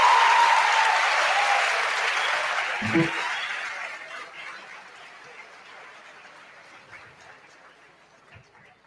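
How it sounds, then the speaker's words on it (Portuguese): An audience at the opening of an international conference on terrorism applauds: loud, sustained clapping that slowly fades over several seconds, with a brief thump partway through. "uma salva de palmas para todas as mulheres do Egito"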